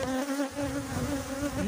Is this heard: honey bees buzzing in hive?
yes